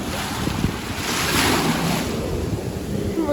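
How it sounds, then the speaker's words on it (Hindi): Ocean waves break and wash up on Jumeirah beach in Dubai, a steady loud roar of surf mixed with wind buffeting, continuous with a swell in the middle. "ये वेव्स मेरे को आके बार बार गीला कर देंगे"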